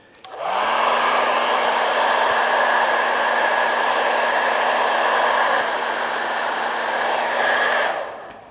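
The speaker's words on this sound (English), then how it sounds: "I've borrowed my wife's hairdryer, and if I turn it on, it'll make a noise" A hair dryer switches on and blows steadily with a loud, even whooshing roar and a low motor hum, then cuts off after several seconds.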